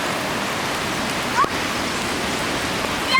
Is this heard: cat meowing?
no